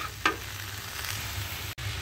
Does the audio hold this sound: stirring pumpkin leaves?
yes